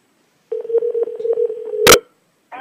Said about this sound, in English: Let's see if I can dial this here.